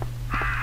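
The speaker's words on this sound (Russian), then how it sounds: "А, сейчас эти вороны выпрыгнут" Crows caw in the Resident Evil Survivor video game: a short harsh call starts partway through and holds over a steady low game hum.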